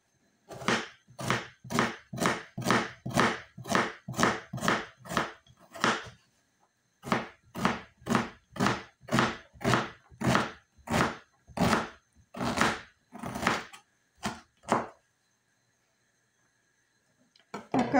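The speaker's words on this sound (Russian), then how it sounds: "Берем одну среднюю луковицу, нарезаем его мелким кубиком." Rapid, steady knife chops on a cutting board as an onion is finely diced, a fast run of dicing strokes, a short pause, then another burst that slows and stops.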